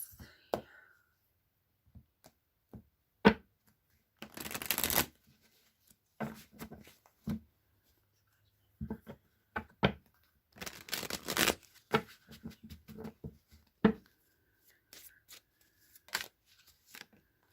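Shuffling a very large tarot deck by hand, a run of soft riffles and card slaps in scattered bursts with quiet gaps, close and faint, no voices.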